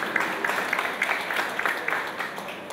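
An audience at a neighbourhood water project gathering in Madhusudan Kati claps together, a dense, even patter of many hands sustained throughout without a break.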